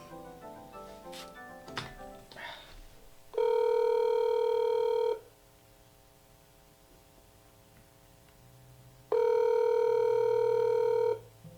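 A ThinkPad X201 tablet used as a cell phone dials out: a quick run of short keypad tones, then two long, steady ringing tones separated by a quiet pause, clear and alone.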